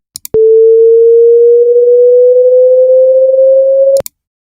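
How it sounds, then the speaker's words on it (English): A generated chirp tone previewed in Audacity: one loud, pure electronic tone holding for nearly four seconds while its pitch slowly rises, framed by clicks at start and stop. "this new track is basically where this chirp sound will be played"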